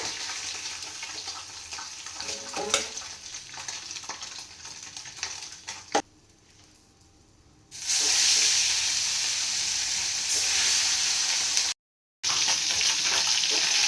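Fish frying in hot oil, a steady bright sizzle with some clinks and scrapes, broken by a brief quieter gap and a short dropout before the loud frying resumes, close by with no talking.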